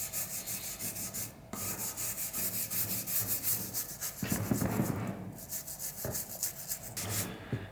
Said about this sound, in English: I've got a brass scrub brush and I'm just gonna,